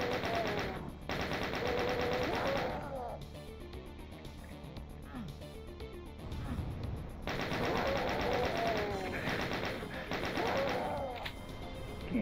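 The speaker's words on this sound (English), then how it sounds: "He's shooting me." Enemy gunfire in Doom II on Massacre difficulty, heard as dense, loud, continuous rattling bursts over layered game noise, with brief pauses between volleys.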